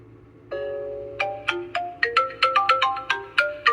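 A smartwatch's Find Phone feature sets a smartphone ringing: one sustained tone, then a quick run of bright, pinging melodic notes, close and clear with no talking.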